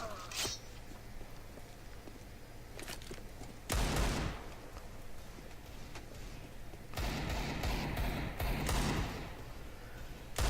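CS:GO gunfire during counter-strafing practice, a few sharp bursts of shots and clatter spaced several seconds apart over quiet game ambience, close and moderately loud, no speech.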